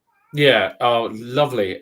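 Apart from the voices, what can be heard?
cat meowing in the background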